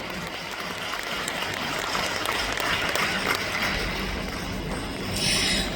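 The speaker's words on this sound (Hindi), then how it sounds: "जोरदार तालियों की करतल ध्वनि से यह सभागार गुंजायमान होना चाहिए।" Audience applause fills an auditorium at a Brahma Kumaris gathering, a steady, dense wash of clapping that holds at an even level from start to finish with no voices over it.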